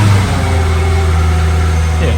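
A Mercedes E55 AMG engine idles steadily and close by, a low continuous rumble with a slight rise in pitch near the end.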